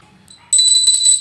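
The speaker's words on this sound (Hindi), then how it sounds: "भगवान की घंटी है, वो घंटी को ऐसा बजा देना" A bright metallic temple prayer bell rings out suddenly after a brief quiet moment, sustaining a clear high tone that shimmers on close by.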